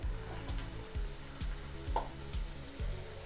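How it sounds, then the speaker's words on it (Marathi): Noodles fry in hot oil in a kadai, a soft continuous sizzle with regular stirring scrapes roughly every half second, heard quietly with no voices. "त्यामध्ये आपण आता हे नूडल्स थोडे थोडे तळून घ्यायचे आहेत"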